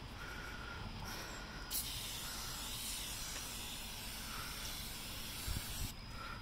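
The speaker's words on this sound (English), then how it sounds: "I literally spray this on here" Steady soft hiss of foaming glass cleaner sprayed onto a window for several seconds, close by and quiet, with faint clicks and small bumps near the end.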